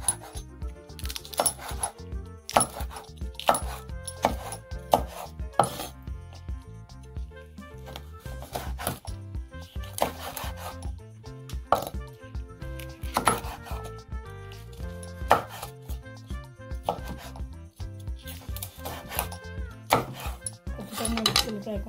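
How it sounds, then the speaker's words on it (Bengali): Banana peppers are sliced into rings with a knife on a cutting board, a run of sharp close chops in irregular bursts with brief pauses between peppers, no speech. "এই দেখুন এখন এই মরিচগুলোকে গোল সার্কেল আকারে কেটে নেব।"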